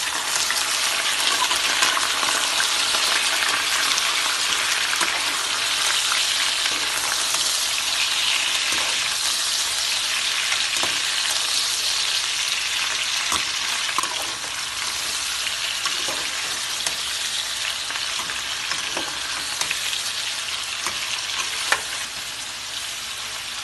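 Onions frying in a pan until golden for Lahori murgh cholay, a loud, continuous close-up hiss and sizzle with faint stirring scrapes throughout, no talk.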